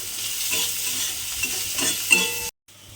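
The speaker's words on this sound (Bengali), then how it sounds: "এইবারে পেঁয়াজটাকে কিন্তু লাল করে ভেজে নিতে হবে প্রথমে" Chopped onions frying in hot oil, a close, dense sizzle with stirring scrapes throughout, continuing alone before a brief cut to silence near the end.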